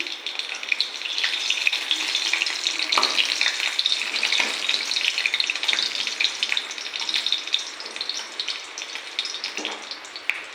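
Green chillies fry in mustard oil in a kadai, a dense, crackling sizzle that runs continuously and loud throughout, with occasional stirring scrapes.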